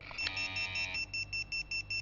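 An alarm clock beeps in a steady run of short, evenly spaced electronic pulses, fairly quiet and alone, after a brief louder tone at the start.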